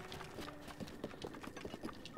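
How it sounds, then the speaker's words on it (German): A horse rider in Zelda: Breath of the Wild trots past with a faint, even clip-clop of hooves, soft and somewhat distant under quiet game ambience. "Pferde, da kommt ein Reiter"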